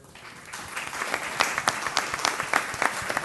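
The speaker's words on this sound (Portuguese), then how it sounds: "eu vou pedir para a igreja a salvar a Deus com uma forma, com palmas bem forte" A church congregation claps loudly and steadily, a dense wash of applause building slightly over a few seconds with no voices on top.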